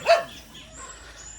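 A single sharp dog bark sounds near the start, loud and close, followed by faint background noise and quiet high chirps.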